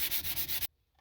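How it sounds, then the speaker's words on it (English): Steady close-up scuff sanding rubs across a wooden furniture surface, a quick scratchy back-and-forth rhythm that stops abruptly after about half a second. "This is all it takes for scuff sanding."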